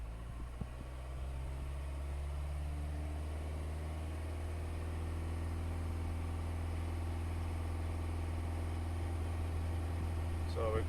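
A Ford Transit 2.4 TDCi diesel engine running with a misfire, a steady low droning idle with a heavy low hum, heard close and continuous with faint background sounds.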